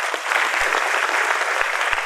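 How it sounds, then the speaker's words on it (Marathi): Parents and students at a coaching academy meeting clap for three students called forward, a steady burst of crowd applause filling the room from start to finish with a few low thumps underneath. "या तिघांसाठी सर्वांनी टाळ्या वाजवा"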